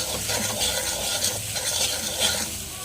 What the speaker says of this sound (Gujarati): થોડું કરકરી થાય રોટલી ત્યાં સુધી આપણે એને ફેરવી લેવાનું